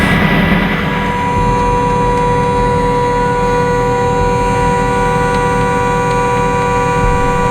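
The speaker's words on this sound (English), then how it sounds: "Several members of the crew attempt to silence the sound of the horn with little success." A car horn blares in one loud, unbroken tone that drones on without pause, with a low rumble beneath it, at a crash scene on a freeway as rescue crew try to silence it.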